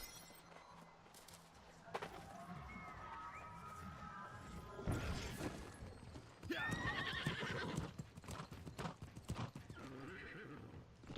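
Horse hooves clip-clopping in the video game New World, a quick steady beat of hoofbeats close by, broken up by a horse's whinny and neighs and a few sharper impacts.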